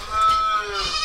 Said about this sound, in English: I hear a moo.